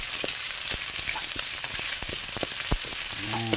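Onions and garlic sauté in a little oil in a pan, with a steady close hiss of frying and scattered pops and crackles. A few faint ladle scrapes sound near the end.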